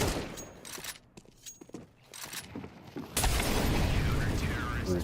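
Gunfire in Counter-Strike 2, starting as scattered shots under game noise and talk, then swelling into a loud, sustained burst of rapid fire that fills the last two seconds.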